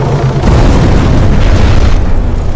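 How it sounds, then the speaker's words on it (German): A loud, sustained crash and rumble fills the whole clip as a helicopter crashes into a house in Arma 3, dense and close. "War das dein Heli, der in mein Haus gekracht ist?"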